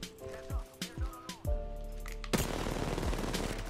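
Gunfire in Apex Legends at King's Canyon: a few sharp, separate shots ring out over a droning in-game hum, then a louder, sustained rush of sound takes over, with no voices heard.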